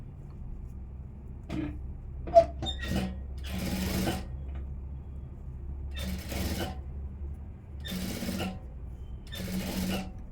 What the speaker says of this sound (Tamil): ஓரமாக தையல் போட்டுடலாம்